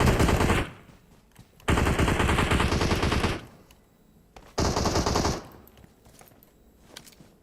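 Automatic gunfire in the mobile shooter PUBG Mobile comes in loud, dense bursts lasting one to two seconds each, three bursts in all with quieter gaps between them.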